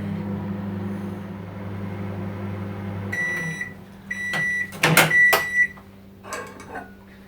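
Microwave oven running while heating a cup of milk, a steady low hum for about three seconds, then beeps, a door clunk and clatter as it finishes and is opened.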